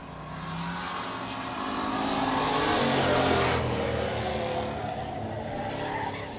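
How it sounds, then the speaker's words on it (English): Two race cars lapping close together in a heat race, engines roaring and tires skidding as they sweep past, loud and swelling then fading slightly. "Brian Caswell and Justin Gillot really putting on a good battle despite there only being 2 cars of the field pretty much"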